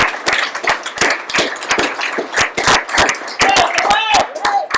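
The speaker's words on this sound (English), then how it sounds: "Let's give them a round of applause." A small group at a staff retraining session gives a round of applause, dense quick claps close by and fairly loud, with a brief voice near the end.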